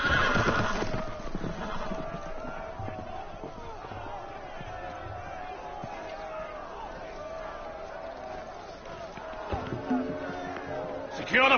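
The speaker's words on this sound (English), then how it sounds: "The horses! They're loose!" Loose horses whinny and neigh in a video game, shrill cries near the start and end over a busy background of hoofbeats and crowd commotion, with voices talking throughout.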